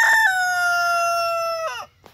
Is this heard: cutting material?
no